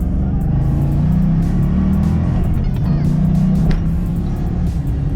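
A supercharged Fox Body Mustang notchback pulls hard after a downshift, its engine note a steady, loud, close drone that rises and holds through the acceleration, heard from inside the car with no voices over it.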